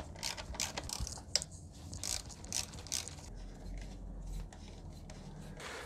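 A hand ratchet with an E10 socket clicks in quick close bursts while unbolting the fuel rail from the intake manifold of a Mercedes W220 S320 V6, the rapid ratcheting pausing and resuming, with no talking.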